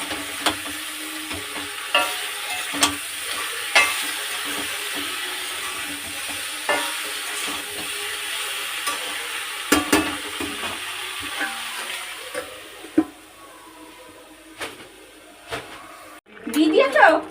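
Food frying in a pan, likely pointed gourd with turmeric, is stirred with a utensil. Intermittent scraping clicks ride over a soft continuous sizzle, close by, with a louder burst of clatter at the very end.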